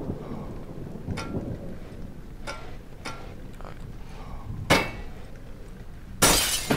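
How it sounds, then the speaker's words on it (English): Glass shatters twice in Amnesia: The Dark Descent, a sharp crash near 4.7 seconds and a louder, longer smash near the end, set against a low ambient rumble with a few faint earlier knocks. "Some glass. Let's see if we can break it."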